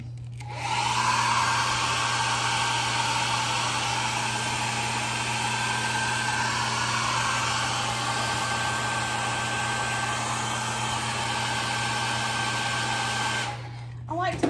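A hair dryer dries paint on a wooden sign, a loud, steady close whoosh with a constant motor hum that starts abruptly, holds for about twelve seconds and then cuts off.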